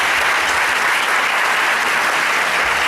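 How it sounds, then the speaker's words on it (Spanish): A seated audience at a business presentation gives loud, sustained applause, a dense unbroken wash of clapping lasting about three seconds with no voices over it. "Aquí un fuerte aplauso para ustedes, empresarios."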